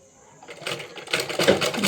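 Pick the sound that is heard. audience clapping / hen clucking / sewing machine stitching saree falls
sewing machine stitching saree falls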